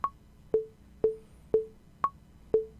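A metronome app clicking steadily at 120 bpm, six sharp ticks evenly spaced, with the first and fifth beats higher-pitched accents.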